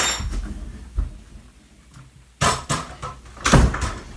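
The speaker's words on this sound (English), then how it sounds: "Let me close this door." Indoor door swung shut with a solid knock and rattle, followed by another thud and some clattering, close and fairly loud, with no talking.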